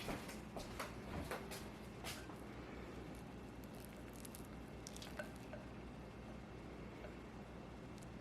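Garlic and herbs are folded and massaged into homemade butter, making soft, wet squishing and patting sounds that repeat close by at a low level.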